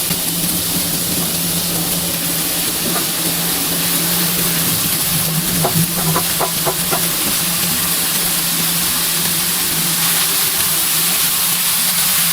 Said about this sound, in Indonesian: panaskan minyak dan tumiskan bawang bombay dan bawang putih hingga tercium bau harum